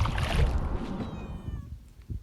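A hungry kitten under a bridge on a low-tide Louisiana bayou, near a kayak, gives a clear drawn-out meow that falls in pitch, heard through rustling and splashy background noise.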